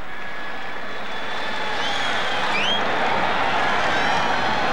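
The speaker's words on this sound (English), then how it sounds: "Stallings gets a well-deserved round of applause" A stadium crowd at a Kentucky Wildcats at Louisville Cardinals college football game in 2000 applauds a player, a broad, steady roar of clapping and cheering that swells and stays loud.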